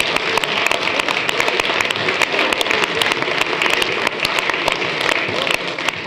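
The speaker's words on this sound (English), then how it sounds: "they're fair-minded enough to give you a round of applause" A town hall audience at a Brexit meeting breaks into dense, sustained applause, many hands clapping steadily and loudly for the full stretch, with no talk over it.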